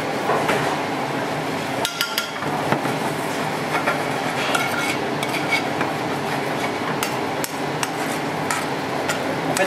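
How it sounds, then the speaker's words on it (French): Small mushrooms sweating in butter in a pan used earlier for langoustines, giving a steady dense sizzle with scattered clicks and scrapes of stirring throughout. "On va mettre la garniture à suer. Les petits champignons."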